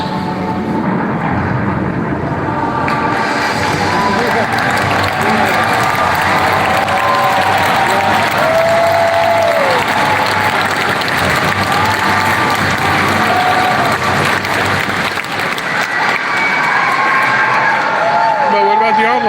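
A large BlizzCon convention crowd applauds and cheers loudly and continuously, a dense roar of clapping and voices with a few whoops rising through it.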